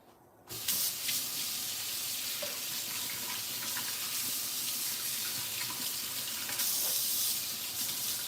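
Water from a kitchen tap gushes steadily into a sink during cooking with sweet potatoes, a loud continuous splashing hiss that starts abruptly after a brief quiet moment and runs on without pause.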